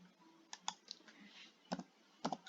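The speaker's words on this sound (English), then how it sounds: "right click" Faint computer mouse clicks in SketchUp, a few light, scattered ticks and a couple of double clicks, quiet and close, with no talking.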